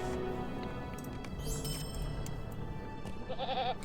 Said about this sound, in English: This goat will take you to Kuli's camp